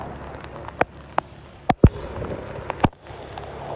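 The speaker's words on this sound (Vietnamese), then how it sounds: "bây giờ nó lại mưa to hạt trở lại nữa rồi." Heavy rain pours down in Nha Trang with a steady wash of falling water, broken by close, irregular thuds and sharp drops striking a nearby surface.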